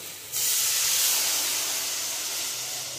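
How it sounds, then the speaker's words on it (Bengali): Water is poured into hot, oil-rich fried spice paste for a rohu fish kalia, setting off a sudden loud, close steam hiss that holds steady and fades slightly over a few seconds, with no talking. "এখন পরিমাণ মতন জল দিয়ে দেবো"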